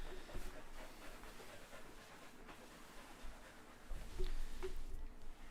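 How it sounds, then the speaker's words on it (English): An exhausted dog pants softly and rhythmically after a long walk, quick faint breaths growing a little louder and closer toward the end amid low room noise. "As an absolutely knackered dog comes panting into the room after his long walk."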